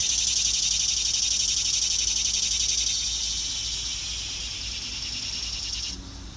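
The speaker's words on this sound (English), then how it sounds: "Sorry about the cicadas. There's a lot of them around here." A loud, dense, continuous high-pitched insect buzz fills the air, steady and pulsing, easing slightly before cutting off near the end.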